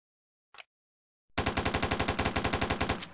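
An animated Steyr AUG rifle fires on full auto: a faint click, a brief pause, then a loud, rapid, evenly spaced burst of about twenty shots that runs to the end, with no voices.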